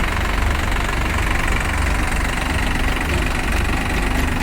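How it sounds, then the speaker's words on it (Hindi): Two tractors, a Swaraj 744XT and a New Holland 3600, run side by side in a pulling contest on a farm field, their engines giving a steady, loud, knocking diesel drone throughout with no talk. "भैया दोनों बराबर से ही चल रहे ट्रैक्टर"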